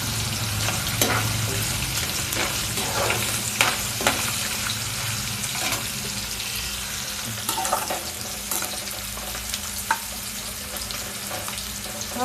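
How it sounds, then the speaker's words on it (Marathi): Paneer and onion shallow frying over a high flame, a dense continuous sizzle broken by sharp spatula clicks and stirring scrapes, with no one talking. "त्याच्यावर पनीर शॅलो फ्राय करून घेते."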